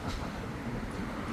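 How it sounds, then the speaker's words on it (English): A train rumbles along with a dense, continuous roar, loud and close, with no distinct voices. "This is one for all you people in London with your 10 and 12 car trains."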